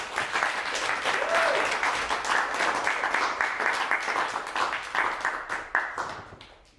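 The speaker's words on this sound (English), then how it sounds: "Clap it up for them." Audience applause for several young performers about to present, a steady dense wash of clapping from a room full of people, loud and sustained, thinning slightly toward the end with a few sharper individual claps.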